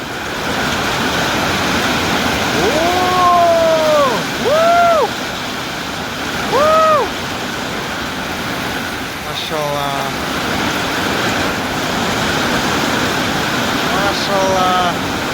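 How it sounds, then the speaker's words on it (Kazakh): Heavy rain pours down steadily in the Khantau area, with a broad, continuous wash of noise throughout. Voices speak over it at times and bird calls break through now and then. "Жаңбыр, керемет."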